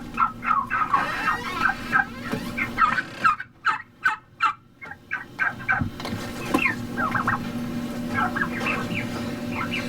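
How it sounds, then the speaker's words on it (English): Turkeys housed in a wooden stick-frame coop gobble and squeal in repeated bursts, several birds calling close by over a steady low hum, with a cluster of sharp rapid calls in the middle. "Turkeys have been living in here for a little while"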